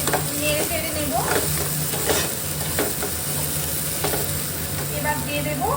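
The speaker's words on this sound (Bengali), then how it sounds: "ভালো করে নেড়ে চেড়ে কষিয়ে নিতে হবে।" Prawn curry masala for chingri malai curry fried and stirred in a pan, loud steady sizzling broken by repeated scraping strokes of a spatula against the metal.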